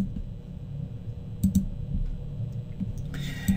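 A computer mouse clicks a few times while navigating files in a Linux cPanel file manager, sharp small ticks over a steady low room hum with no speech.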